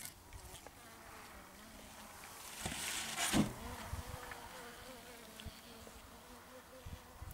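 Honeybees buzzing steadily around a hive fed with sugar fondant, a faint continuous hum that swells briefly in the middle, with no talking.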